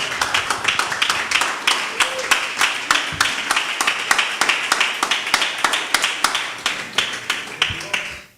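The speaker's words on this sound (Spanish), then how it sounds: "Alguien puede darle palmas a ese Dios" A church congregation claps in a steady, even rhythm during a Spanish-language sermon, with loud, sharp, closely spaced beats running the whole time before stopping abruptly at the end.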